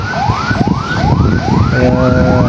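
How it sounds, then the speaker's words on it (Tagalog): An ambulance siren wails on a trafficked road, its rising-and-falling sweeps repeating roughly twice a second, loud and close over a low rumble of engines. "Dapat pagbigyan nila yung ambulansya dahil priority yan, buhay ang hinahabol yan."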